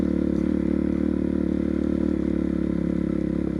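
A motorbike riding along a rough road covered in leaves, its engine giving a steady, loud, close droning rumble with a faint rattling texture throughout.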